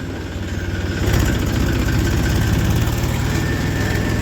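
A tractor engine in third gear hauls a loaded sugarcane trolley toward the mill on a foggy morning, a steady low diesel drone that grows slightly louder after the first second and runs on unbroken, with no talk.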